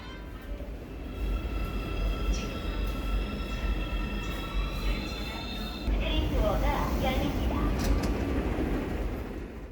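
Steady low rumble and clatter inside a moving subway train on a commute, with faint tonal whines from the carriage, a loud swell after a few seconds and quiet voices under the continuous noise.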